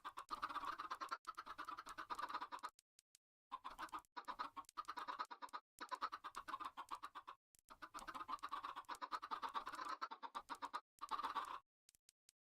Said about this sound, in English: Are you guys tired of hearing all these gosh dang chickens?